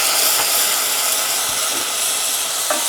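Half a cup of white wine poured into hot risotto rice in a pan for lemon risotto, giving a steady, broad sizzling hiss that stays loud and even throughout, with no voices.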